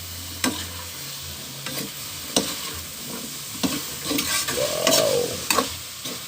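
Adobong takway being stirred in a hot pan, with repeated scrapes and clinks of the utensil over a steady sizzle of frying, close and fairly loud; one short exclamation is heard.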